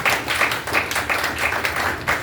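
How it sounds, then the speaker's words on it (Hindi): A dense, steady round of audience applause at a book launch ceremony honoring Sushma ji, many hands clapping together with faint rhythmic swells, fairly close and continuous throughout. "तो तालियां एक बार सुषमा जी के लिए आपसे चाहता हूँ मैं"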